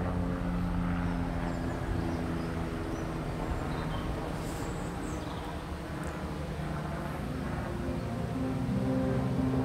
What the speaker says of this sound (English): I hope bloody helicopters are out again after me.